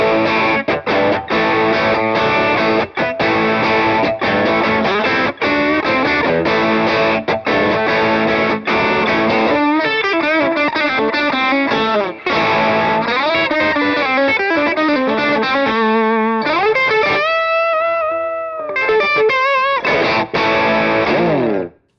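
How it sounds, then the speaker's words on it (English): Electric guitar on the bridge pickup with the tone knob fully up, driven through an Analog Man King of Tone overdrive, playing a loud, continuous distorted line of chords and sustained notes with bends near the end. "So here's the bridge pickup tone on 10 with the Analog Man King of Tone."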